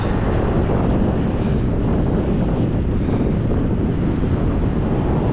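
Strong wind roars and buffets the microphone continuously in 7°F weather while bicycle touring in Minnesota, a dense, steady rumble with no pauses throughout.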